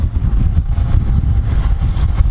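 A Caterpillar D6 diesel engine in an oversized American motorhome idles close by, a steady low rumble that holds even and unbroken throughout without talk.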